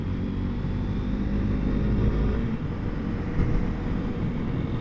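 A Honda CRF300L single-cylinder motorcycle pulling up a steep hill in fourth gear, a steady low engine rumble under throttle with wind noise, close and continuous without clear rev changes.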